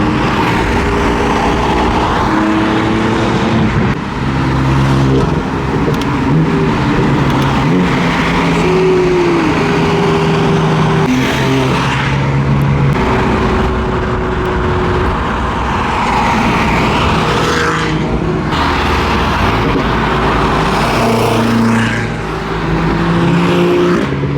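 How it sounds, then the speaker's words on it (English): A group of cars including BMWs rolls past on a road in a continuous loud engine rumble, several vehicles overlapping with rising and fading revs as each passes close by. "Oh shit, I think all the cars just came."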